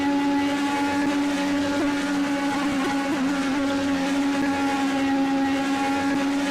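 An IndyCar engine at Pocono Raceway is held flat out through turn 2, giving a loud, steady high-pitched drone with strong sustained harmonics and a slight dip and recovery in pitch midway.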